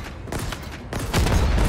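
Pistol gunfire in the video game Halo Infinite: rapid bursts of shots that grow denser and louder in the second half, close and punchy.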